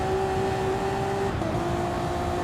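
Honda NSX race car in a racing video game, its engine held at a high, steady, screaming pitch under hard throttle. The sound is continuous and loud, with a slight pitch shift midway and no talk.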